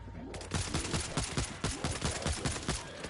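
Rapid gunfire rattles in a video game shooter set in a New York tunnel map, a dense burst of loud, closely spaced shots starting after a brief pause and continuing without letup.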